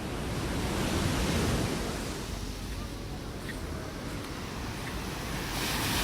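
Sea waves wash onto a beach in Quezon on a rough day, a steady broadband roar of surf with wind buffeting the microphone, loud and continuous throughout with no talk.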